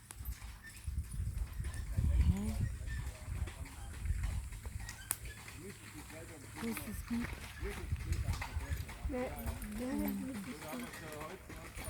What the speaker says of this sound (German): die Pferde kommen auf jeden Fall wieder. Das sind 2 Pferde.